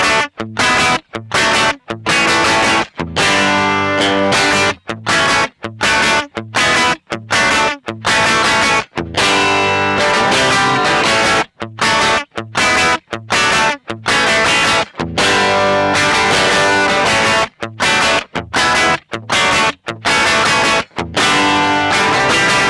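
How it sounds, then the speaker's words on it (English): Crunchy distorted electric guitar from a Nash Strat through a D120 amp head, recorded direct at line level, plays a choppy riff of chords broken by short sharp stops, loud and close, with no talking. "I'm going to play this filthy Nash Strat into a D120 head"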